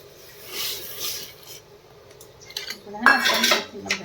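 Dry dal poured into a metal pressure cooker and stirred with a metal spoon, giving scattered clinks and rattling scrapes that grow louder toward the end, with no talking.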